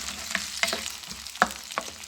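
Freshly washed beet leaves hitting hot oil in a pan, a crackling sizzle broken by sharp spattering pops and a few louder bursts, close and with no talking.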